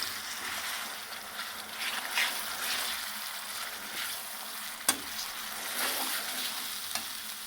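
Tomato paste hits a pan of roasted chilies, spices and dried coriander, making a steady, moderate sizzle. Light stirring runs through it, with one sharp clack midway and a smaller knock near the end.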